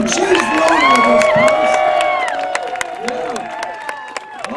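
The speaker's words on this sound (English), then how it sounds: "let's have a round of applause" A party audience claps and cheers loudly, with whoops and shouts over dense applause that slowly eases off, while a voice calls out over the crowd.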